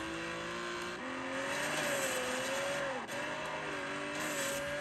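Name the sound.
car driving in an Apple Arcade racing video game on iPad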